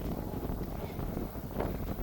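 Wind buffets the microphone in a constant low rumble on a hilltop near Barnsley, broad and blustery outdoors, with no clear voices or other sounds above it.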